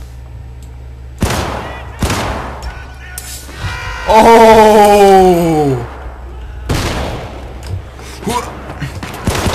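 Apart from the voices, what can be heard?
gunfire in Syndicate video game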